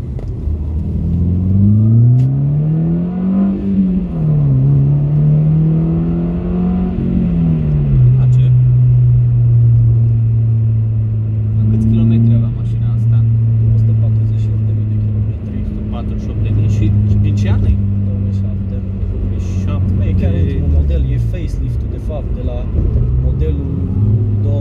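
A Subaru Impreza 2.0 R with a naturally aspirated engine revs up and down several times before settling into a steady, loud droning hum, with someone talking over it.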